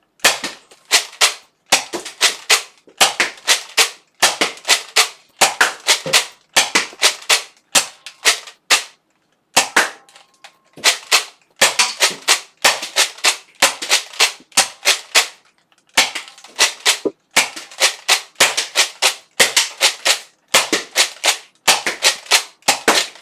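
Nerf Hyper Impulse 40 blaster firing rapid bursts of sharp, loud snapping shots into a soft target, in quick rhythmic volleys with brief pauses between groups, no talking.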